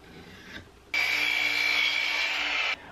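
A wooden board is sawn in half in a workshop: a steady, loud stretch of rasping saw strokes lasting nearly two seconds after a quiet lead-in, then stopping abruptly.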